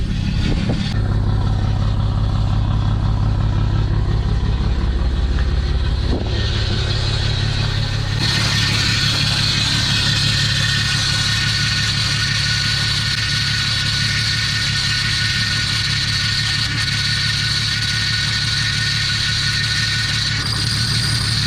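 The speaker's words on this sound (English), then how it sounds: "I'm gonna crank it a few times." A Mitsubishi 3000GT engine turning over, a loud, steady mechanical churn from the starter close by that shifts in tone partway through and carries on without pause, with no voices over it.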